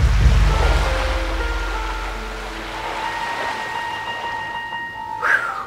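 Sea waves around a small island off Bantayan Island, Cebu, heard as a steady low wash of surf with a faint hum, rising briefly near the end.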